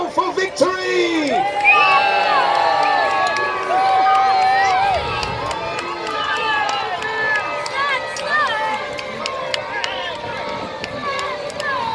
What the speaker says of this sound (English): whether you be Saxon or Norman, cheer now for victory!